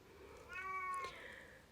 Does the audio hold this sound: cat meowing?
yes